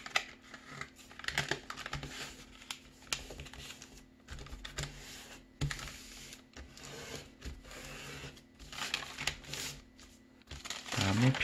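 Paper creases and rustles as sheets are folded into an origami gift box, with repeated close crinkles and sharp folding swipes. The sounds come in short bursts with pauses, and a voice speaks quietly at times.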